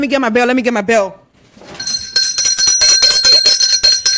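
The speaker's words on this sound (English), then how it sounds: "let me get my bell." A hand bell rings rapidly and repeatedly with bright metallic clangs, starting after a brief sung or spoken phrase and continuing loudly to the end.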